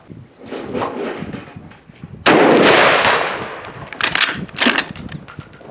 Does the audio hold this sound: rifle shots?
yes